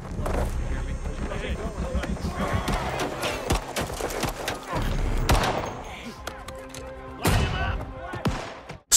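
Gunfire in a film shootout between a lone marine and corrupt police, dense overlapping shots and impacts layered with loud action effects and music, continuous and busy throughout.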